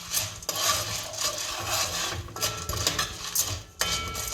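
Popcorn kernels are stirred in a pot with butter and oil, producing rough scraping and rattling strokes of a spoon against the metal in an uneven rhythm, close and fairly loud with no talk.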